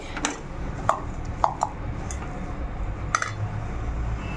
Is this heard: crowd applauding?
no